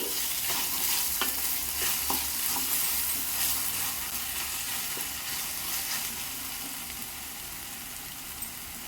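Onion masala paste frying and being stirred in a pan, giving a continuous soft sizzle with scraping spoon strokes and faint clinks, close and fairly quiet, without voices.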